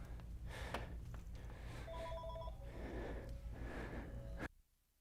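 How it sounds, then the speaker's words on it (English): A telephone rings in a workshop during MacBook Air 11-inch logic board repair, its short electronic tones sounding twice over a steady low hum and background noise, then cutting off abruptly. "phone calls started blowing up"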